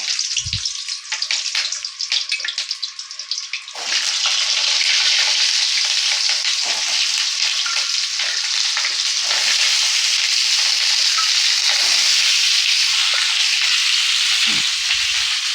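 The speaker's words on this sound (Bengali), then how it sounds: "এই দেখো পটলগুলো আমি প্রথমে ভেজে নিচ্ছি।" Pointed gourd (potol) frying in hot oil, a quiet start giving way to a loud, steady close sizzle that fills the rest, with no talking.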